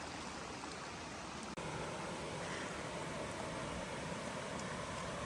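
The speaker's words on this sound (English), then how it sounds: "We got the little waterfalls right here." A creek runs over little waterfalls next to a campsite after rain in the Buckhorn OHV area. The faint, even rush of flowing water carries on throughout, broken once by a single soft click.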